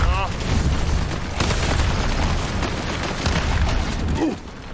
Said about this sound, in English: But our grenades now, when they explode, they cover a lot of ground.